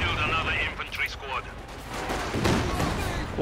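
Gunfire and an artillery barrage crash in Company of Heroes 2, with repeated shots and heavy explosions running throughout under a commentator's voice.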